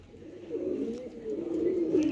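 Crossbred pigeons coo close by in a low, throaty, rolling call that swells and repeats over two seconds, fairly loud with a quiet background.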